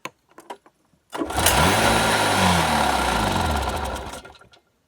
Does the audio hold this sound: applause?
no